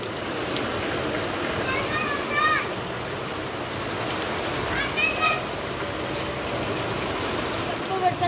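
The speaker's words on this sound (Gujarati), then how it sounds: "બીજી પડી છત્રી વરસાદ જબર આવો" Steady heavy rain hisses throughout in a village, with faint voices and children's calls in the background.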